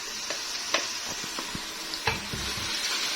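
Ginger garlic paste sizzles softly in a hot pan while a spoon stirs it, with scattered scraping clicks from the utensil over a steady frying hiss for beef degi gosht.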